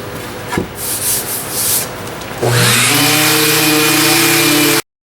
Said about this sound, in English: give this guy a little bit of sanding also